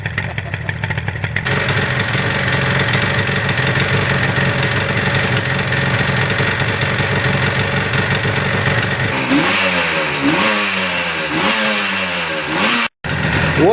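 A 1977 Yamaha RD400 two-stroke motorcycle engine runs on choke in a garage, a loud, steady, buzzing idle close by, then several quick rising and falling revs near the end, with no talking.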